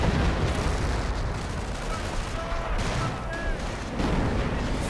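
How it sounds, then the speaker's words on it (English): Howitzer artillery fire in a World War II strategy game battle, heard as dense, rumbling booms and distant gunfire blending into a continuous roar of combat, with no voices over it. "And the howitzer once more fires."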